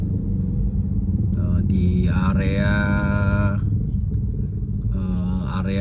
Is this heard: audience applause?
no